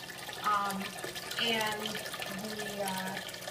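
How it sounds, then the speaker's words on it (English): Water gurgling and splashing as an aquaponics grow bed siphons and drains back into the fish tank, a steady nearby rush with a person talking over it. "it'll actually create a vacuum and pull all the water out of the grow bed back into the fish tank"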